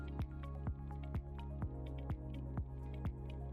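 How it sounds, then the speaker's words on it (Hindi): Drops of pH indicator fall into a container of tap water, a steady series of soft, evenly spaced drips close by, about two per second, with no talking. "सबसे पहले हम नल का पानी लेंगे और उसमें ये पीएच इंडिकेटर के कुछ ड्रॉप्स डालेंगे"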